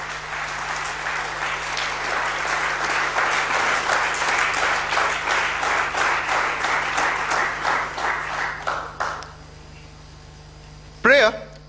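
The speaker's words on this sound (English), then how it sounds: "let's welcome them with a huge round of applause" Audience applause at a Karnataka Bank founders' day ceremony as guests are welcomed onto the dais, full steady clapping that swells, then tapers and stops near the end, followed by a brief thump.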